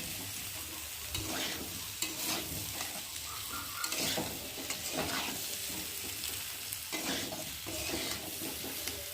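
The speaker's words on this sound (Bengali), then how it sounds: "কষানো হবে আর এদিকে এঁচোড়টা ভাজা হয়ে যাবে" Green jackfruit pieces frying in oil with spices while being stirred in a pan. A dense, moderately quiet sizzle runs throughout, broken by repeated scraping and stirring strokes, with no voices.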